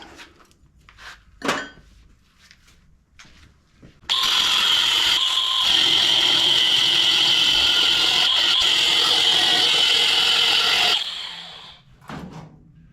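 A grinder works on a Toro Timecutter zero-turn mower blade, starting abruptly with a loud, steady high-pitched whine that holds for about seven seconds before dropping away, with quieter clanks and shuffling before and after.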